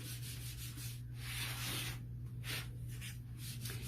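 Paste is rubbed by hand into wood grain for a chalk transfer, giving soft, close, repeated swishing strokes at low level over a faint steady hum.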